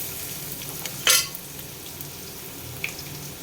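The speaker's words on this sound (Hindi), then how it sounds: "थोड़ा सा ज़्यादा घी डाल के सौटे करेंगे" Boiled potato pieces sauté in ghee and oil, a steady soft sizzle with one sharp stirring clatter near the start, with no talking.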